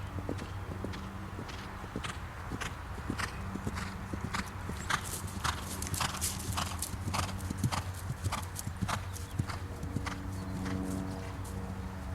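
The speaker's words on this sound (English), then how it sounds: "The length of the horse's stride changes, but his rhythm doesn't." A horse galloping over a cross-country eventing course, its hoofbeats drumming in an even, steady rhythm close by, with a brief whinny and no talking.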